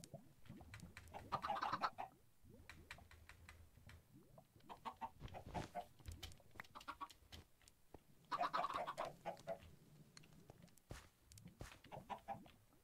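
Minecraft chickens cluck in short, soft bursts, with quiet clicks and game noise around them, faint and fairly distant, no one speaking.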